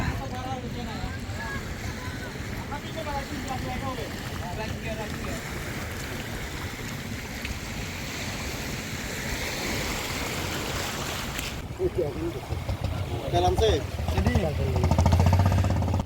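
A fishing trawler with no cabin roof moving on the sea, heard as a steady rumbling engine drone with wind buffeting the microphone and water rushing, growing louder toward the end, while someone talks over it.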